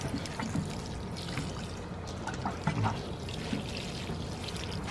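Water from a watering can trickles and splashes onto the soil at the base of container-grown tomato plants, a continuous nearby pour with small uneven bursts and faint background noise.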